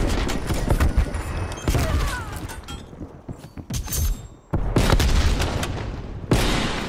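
AK rifle gunfire in the video game Black Ops Cold War: loud sharp bursts of automatic shots in several clusters with short pauses between, close and dominant.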